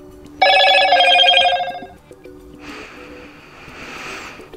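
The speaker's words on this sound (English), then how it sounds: "a phone will be spamming us with notification sound" Motorola Moto G Pure phone notification tone, a loud bright chiming melody lasting about a second, then fainter repeated electronic tones close by, with no talking.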